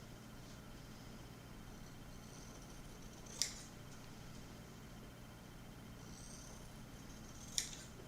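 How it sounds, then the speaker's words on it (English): Scissors trim the edge of fabric for a hand-sewn pirate flag, making two faint, crisp snips several seconds apart against a quiet room hum. "So now I'm just trimming close to the fabric just to get it usable."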